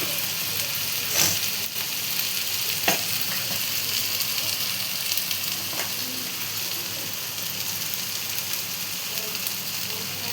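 Chilli, cumin and coriander powder masala frying in oil for a mutton curry, a steady broadband sizzle throughout with a few sharp scraping stirs of a spoon in the pan, close and fairly loud.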